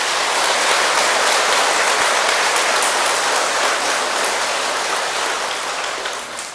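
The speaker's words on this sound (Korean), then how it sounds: "선수들에게도 박수를 보냅니다" Dense, continuous clapping fills the space from start to finish, a loud hiss-like wash of many hands at a Buddhist dharma talk, tapering slightly toward the end with no talk over it.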